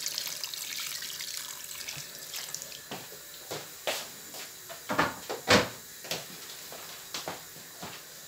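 Water runs from a kitchen tap into a sink with a constant hiss, while cupboard doors and utensils knock and clatter nearby in several sharp bumps.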